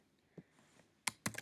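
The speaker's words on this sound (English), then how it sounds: "I'll have to type them in." Typing on a computer keyboard: a few sharp, close keystrokes in a quiet room, a soft tap followed by a quick cluster of clicks near the end.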